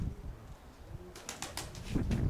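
Pigeons kept by a fancier in Dnipro coo low and close, with a brief burst of wing flapping in the middle.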